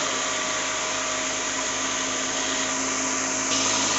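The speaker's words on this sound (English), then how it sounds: "motor will be running at a high speed even though small amount of load is being applied" A DC series motor runs at high speed under light load on a brake test rig, giving a steady, loud, hissing whine with a fixed tonal hum and no pause.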